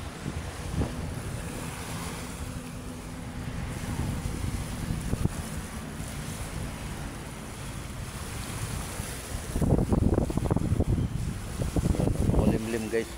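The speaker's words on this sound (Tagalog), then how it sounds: "lumalakas na yung ating hangin." Strong wind buffets the microphone with gusts over rolling surf at Manila Bay, louder toward the end, while a person talks intermittently.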